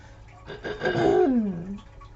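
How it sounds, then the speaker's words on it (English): One close throat clearing, a rough breathy rasp that ends in a short voiced, falling grunt, then quiet. "I have to pause it to clear my throat."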